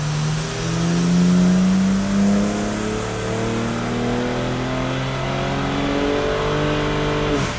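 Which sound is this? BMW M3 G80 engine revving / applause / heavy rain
BMW M3 G80 engine revving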